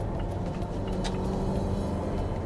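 Mazda 6 sedan pulling steadily in third gear, a continuous low engine drone and road rumble heard from inside the cabin, smooth and unbroken with no voices.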